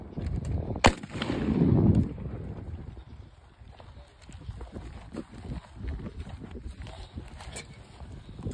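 Shotgun firing a 1-ounce slug into a bulletproof briefcase outdoors, one sharp loud report followed by a short rumbling tail, then wind noise and faint rustling.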